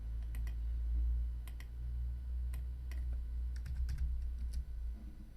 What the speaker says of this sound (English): I can type my own value and hit the Enter key